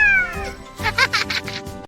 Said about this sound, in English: This is a cat. Cat says meow meow.